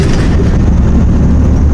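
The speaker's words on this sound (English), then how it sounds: "You get a lot of clanging and banging because you got the open van." Heavy low rumbling and clattering as a 1998 Ford Econoline E350 van, towing, rolls over train tracks, loud and close, with dense thuds and rattles throughout.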